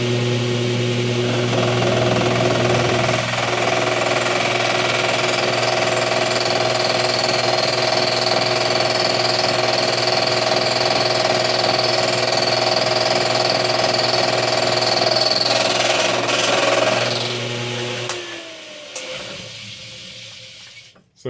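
A homemade fly cutter on a milling machine takes a 12.5-thousandths cut on metal at about 1,000 RPM, a loud continuous whirring drone with a steady cutting hiss that winds down and stops near the end.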